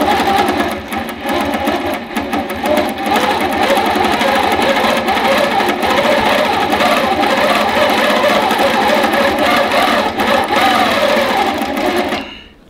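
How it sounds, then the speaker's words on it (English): A sewing machine stitches through two layers of fabric and two layers of batting, running loud and continuous for about twelve seconds with a rapid, thumping needle rhythm before stopping. "you can almost hear like a boom, boom, boom, boom every time it punctures that fabric"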